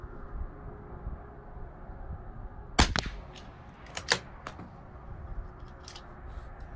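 A CZ 457 LRP rifle firing CCI Standard Velocity .22 rounds gives one sharp, close shot, followed by a few quieter clicks and clacks of the action over low steady background noise.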